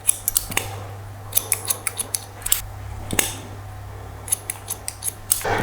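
Scissors snipping curly hair during a clipper-over-comb taper haircut, close and crisp, in quick irregular bursts of small metallic snips with short pauses between, over a faint low hum.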